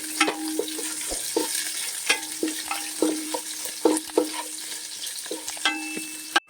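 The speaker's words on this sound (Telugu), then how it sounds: "ఇదిగో ఉల్లిపాయ ముక్కలు వేస్తున్నాను, పచ్చిమిర్చి వేస్తున్నానండి" Onion pieces and green chilies frying in a pan for Andhra-style chicken biryani, a steady close sizzle broken by repeated clinks and scrapes of a spoon stirring, with no talk.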